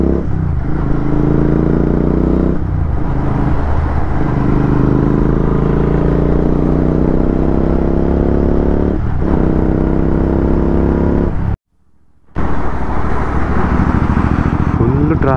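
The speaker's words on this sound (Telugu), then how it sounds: "ట్రాఫిక్ ఉంది ఇక్కడ మాత్రం, చాలా స్లో ఉంది." Riding a GT650 motorcycle through slow road traffic: a steady, close engine drone with rumbling tones and light clatter runs throughout, cutting out briefly near the end before resuming.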